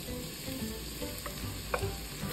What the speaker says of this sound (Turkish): Soğanlarımızı birkaç dakika güzelce kavuruyoruz.